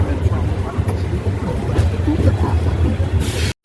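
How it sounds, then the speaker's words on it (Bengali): The Kolkata–Gorakhpur Purbanchal Express rolls into Naihati Junction station, a loud, continuous low rumble from a general-class carriage, with voices murmuring over it before a sudden cut at the end. "আমাদের ট্রেন এসে পৌঁছেছে নৈহাটি জংশন রেলওয়ে স্টেশনে"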